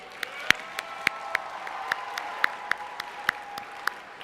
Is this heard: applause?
yes